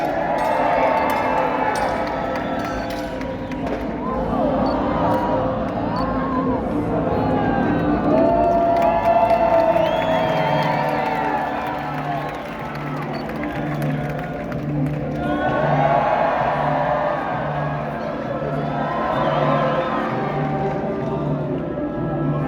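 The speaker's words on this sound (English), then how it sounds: "Remember to cheer your favorite on to victory!" A large outdoor crowd at a live jousting show cheers for competing knights, a continuous roar of voices with shouts and whoops rising and falling in waves, children's cries mixed in, and scattered clapping.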